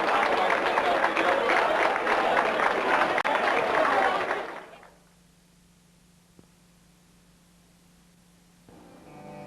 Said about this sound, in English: Put your hands together there to give Tim a good round of applause